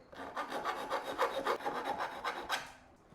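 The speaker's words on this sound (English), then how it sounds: "I can take a file and just try to file down the frame a little bit" A hand file rasps back and forth across the frame of a Ryobi 48V mower, a close, moderately quiet series of about a dozen rough scraping strokes in a steady rhythm, with no talk.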